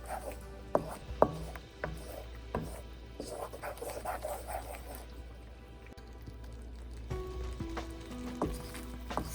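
Tomato puree is stirred in a pan while cooking chicken tikka masala. A spoon gives soft, irregular taps and scrapes against the pan under quiet kitchen background noise.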